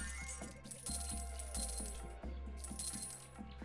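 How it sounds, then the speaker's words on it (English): Sparkly fruit-collection chimes from the video game Kula World sound three times in quick succession over the game's ongoing music, crisp and prominent with no voices. "when you collect the fruit, it makes the Kula World noise"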